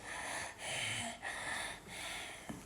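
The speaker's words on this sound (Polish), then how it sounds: "zacznij oddychać oddechem ujjayi" Slow, steady ujjayi yoga breathing with a soft oceanic rasp, long airy inhales and exhales flowing one into the next, close and even.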